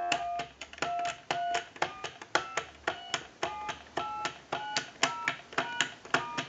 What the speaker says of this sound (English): We'll give you some dial tone. We want to dial our numbers.